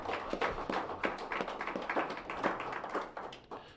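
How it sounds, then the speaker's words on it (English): A studio audience on a local talk show applauds after a music performance, with a steady crowd of hands clapping loudly throughout the clip and no voices above it. "Let's round of applause for that"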